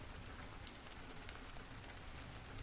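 Steady, quiet rainfall pattering on a surface at night, continuous and even with a few brighter drops, no voices.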